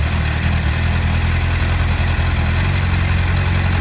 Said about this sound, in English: You hear the idle come back down.